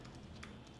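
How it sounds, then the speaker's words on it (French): A search keyword is typed on a computer keyboard: a few soft, quick key clicks spaced unevenly over a low background hum, quiet and close. "vous pouvez taper Traffic Manager ici"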